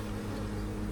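A strong honeybee colony buzzes during a hive inspection, a steady, dense low drone holding at even loudness throughout, close by and with no talking over it.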